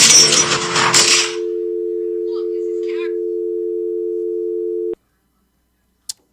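A steady two-tone telephone busy signal drones loudly after a call is disconnected, holding unbroken for several seconds before cutting off abruptly, followed by a short click; brief noisy chatter precedes it.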